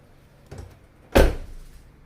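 A car door fitted with Noico sound deadener shuts with a single solid, muffled thump that decays quickly, preceded by a softer handling noise a moment earlier.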